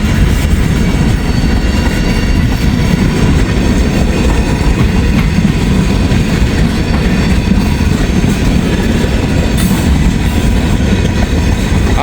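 A long freight train with a distributed power unit rumbles steadily past at close range in Hamilton, a loud continuous roar of wheels and rail noise with faint clacking, no voices.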